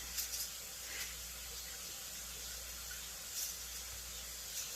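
Water runs steadily from a kitchen sink tap, a soft, even hiss of flow at moderate distance with a few faint splashy clinks, no talk.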